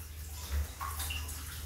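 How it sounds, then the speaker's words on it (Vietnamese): Water sprays gently over a Rottweiler during a bath, a steady close hiss and splash with faint gurgling. "Xịt nước nhẹ"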